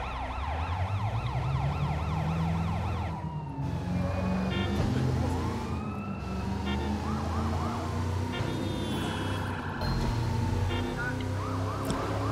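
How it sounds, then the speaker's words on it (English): Several police sirens wail together in the open-world video game Sleeping Dogs, overlapping rising and falling tones sounding continuously with street and engine noise underneath. "There's like four sirens on this."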